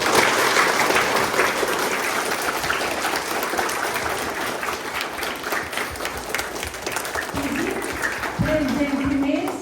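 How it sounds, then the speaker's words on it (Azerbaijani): Audience applause at a public commemorative event in Azerbaijan, a dense, steady wash of many hands clapping that fills the whole stretch, with a voice starting to speak over it near the end. "Gəlin biz onu bir gözəl alqışlarla təbrik edək."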